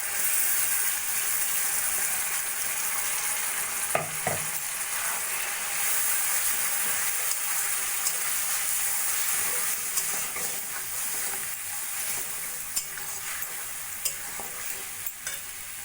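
Pieces of fried chicken crackle and sizzle in hot oil in a pan, with coriander, mint and green chili paste added for a hariyali chicken curry. The sizzle holds steady and close, with occasional stirring scrapes and no voices.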